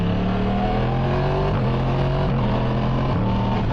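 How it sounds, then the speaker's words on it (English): A 2023 Yamaha MT-10 motorcycle with a Woolich remap and Junction 33 setup, its exhaust droning steadily and loudly from close range as the revs rise and dip through gear changes, with no talk over it. "the exhaust sounds so good"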